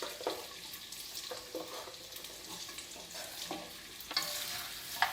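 Parsley and potatoes sautéing in a pan, a soft continuous sizzle broken by repeated scraping stirs and a few light clinks, quiet and close.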